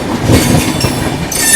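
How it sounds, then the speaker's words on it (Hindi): The Suheldev Superfast Express, running between Ghazipur City and Anand Vihar, rushes past at close range near Sahibabad station with a loud, continuous roar of wheels and carriages and no voices. "गाजीपुर सिटी से आनंद विहार के बीच चलने वाली सुहेलदेव सुपरफास्ट एक्सप्रेस।"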